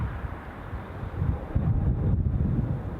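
High wind buffeting at Newcastle International Airport, a continuous low rumbling roar striking the microphone, surging and steadying without talk.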